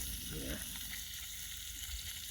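Quickly marinated, taco-seasoned food sizzles steadily in hot oil while frying, a constant bright hiss with faint crackles and a brief stirring sound near the start.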